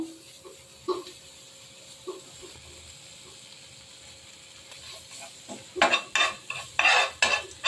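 Asafoetida and grated ginger frying in butter in a pan: a quiet, faint stretch gives way to a few seconds of brisk, close scraping and clattering stirring near the end.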